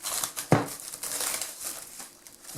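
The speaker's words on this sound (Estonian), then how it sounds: "Võtan kile pealt." Plastic film peeled off a bowl of risen yeast dough, a close crinkling rustle with one sharper crackle near the start, then softer continued crumpling.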